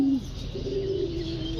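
A Giribaz pigeon coos close by in a soft, low rolling call, one brief note and then a longer sustained coo over faint background hum.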